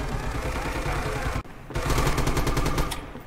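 Machine gun fire in the World War II shooter Red Orchestra 2: dense continuous bursts of rapid shots, a brief gap, then a louder sustained rattling stretch, close and heavy with battle noise behind.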